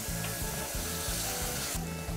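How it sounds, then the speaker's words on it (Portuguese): Arroz carreteiro sizzles steadily in a pan as cachaça is poured in to deglaze it, with a close, continuous frying hiss and repeated scraping strokes of a utensil stirring. "a gente vai usar uma cachaçinha boa aqui do nosso estado também para tirar esse fundinho de panela"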